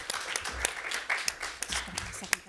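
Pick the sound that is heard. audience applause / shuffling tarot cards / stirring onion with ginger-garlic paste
audience applause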